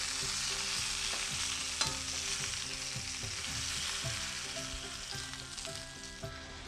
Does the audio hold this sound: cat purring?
no